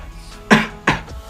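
A person coughs twice into the elbow, two sharp close bursts about a third of a second apart over faint room noise, with no talking.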